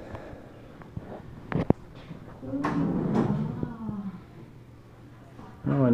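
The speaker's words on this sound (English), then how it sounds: "You want to open the doors, Malin?" Closet doors in a college dorm room opened with a few clattering knocks and a sliding rumble, close by, with people talking around it.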